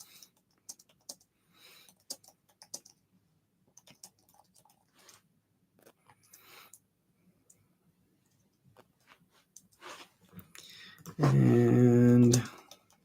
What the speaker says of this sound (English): let me type this out here